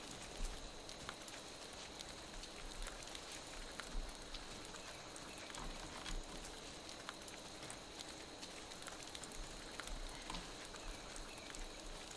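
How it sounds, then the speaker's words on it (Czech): Steady rain pattering in a video game, a soft, even hiss with faint scattered drops, quiet and continuous with no voices over it. "A hezky tady prší v té hře"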